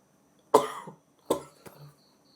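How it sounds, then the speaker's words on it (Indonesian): A person coughs twice, sharp and close, with a smaller trailing cough after the second, each burst separated by brief silence. "Bentar ya, batuk guys."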